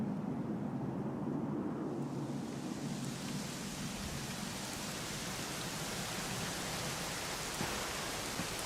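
Steady, dense rainfall with a constant hiss that grows brighter after the first couple of seconds, with no voices and no distinct thunderclaps.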